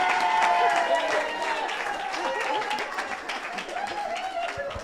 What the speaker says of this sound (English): Y'all give another round of applause for my good friend, Hank Denson